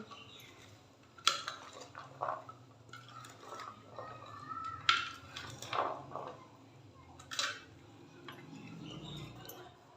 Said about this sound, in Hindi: अभी इन सब चीज़ों को खूब अच्छे से मिक्स कर लेंगे।